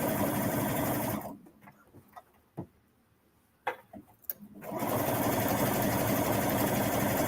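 Triple-stitch topstitching on a sewing machine sews over elastic on a swimsuit, a loud continuous whir at the start and end with a quieter gap of soft clicks and handling in the middle.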